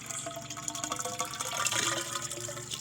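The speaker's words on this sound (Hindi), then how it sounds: "यहाँ हम फटाफट पानी भर देते हैं" Water poured quickly into a hand pump being repaired, a continuous splashing, gurgling fill with bright liquid churning, close and moderately loud, no voices.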